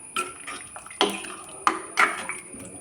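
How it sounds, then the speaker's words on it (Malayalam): Potato curry stirred and mixed in a pot, with several distinct clanking scrapes of a utensil against the metal at irregular intervals, close and fairly loud, no talking. "ഇനി ഇത് നന്നായിട്ടൊന്ന് ഇളക്കി യോജിപ്പിക്കുക."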